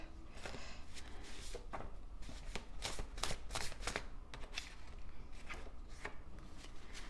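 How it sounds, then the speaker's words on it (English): Oracle cards are shuffled off camera in a series of quick, crisp riffling and sliding bursts, close and distinct with no talking. "I am just shuffling a bunch of them off camera so that we can read them all at once"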